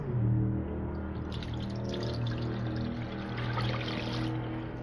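Water pours steadily into a crock pot in a continuous gurgling stream, close by, with no talking over it.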